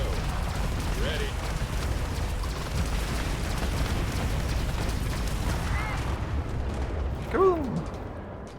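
Spaceship thrusters firing at launch in the Starfield video game, a steady broadband roar sustained throughout with game voices chirping over it and a brief louder swell near the end.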